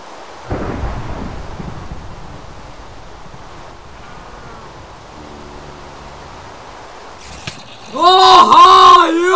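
Steady rain pours in Minecraft with a deep thunder rumble breaking near the start, and a brief burst of higher, warbling game sounds rises over the downpour at the end.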